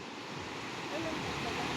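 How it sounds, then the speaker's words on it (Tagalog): Broad, steady rush of ocean waves and wind noise, swelling slightly midway, with faint voices mixed underneath. "Mahina yung alon eh."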